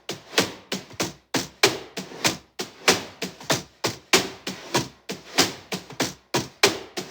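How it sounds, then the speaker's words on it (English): Rapid brush strokes on a cajon in a steady busy rhythm, soft swishy hits blending into each other, played alone with no talking. "That's on a cajon. Definitely using brushes."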